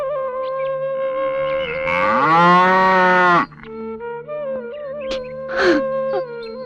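A bull moos loudly and close, a long drawn-out bellow that rises and holds, followed by quieter calls and a few short animal sounds, with no talking.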